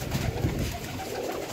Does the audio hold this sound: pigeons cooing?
yes